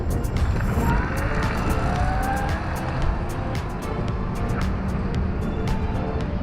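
A Sur-Ron and a 72V Bafang BBSHD electric bike accelerating side by side in a race, loud continuous wind and motor whir, close and steady, with faint ticking clicks throughout and no talking.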